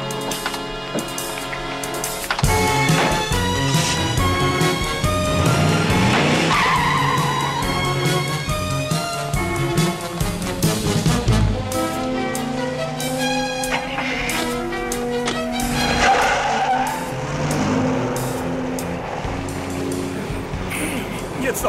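A taxi car arriving on a street in the TV series Ein Colt für alle Fälle, with loud screeching tire skids and engine noise mixed under music and brief talk.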